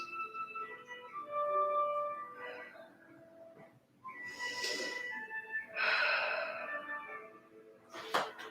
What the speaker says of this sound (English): Breathing deep into this twist.